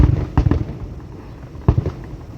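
Fourth of July fireworks going off in two bursts of sharp booms and crackle, the first cluster near the start and a second about a second later, loud against a quiet outdoor background.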